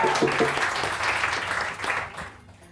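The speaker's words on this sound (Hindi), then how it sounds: "बहुत सारी तालियां इनके लिए" Audience applause fills a studio on a Pakistani morning talk show, dense steady clapping that swells and then fades toward the end, with a little voice faintly mixed in.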